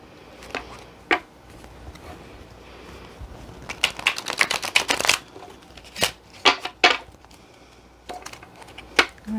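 Tarot cards being shuffled in crisp bursts of riffling and snapping, with short pauses between, close up and without talk.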